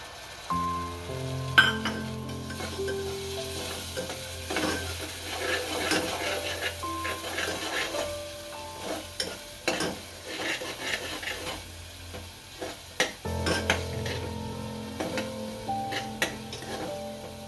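Gravy for a cluster bean curry is stirred and fried in a pan: soft sizzling with frequent spatula clicks and scrapes against the metal, fairly quiet, over a faint tonal background.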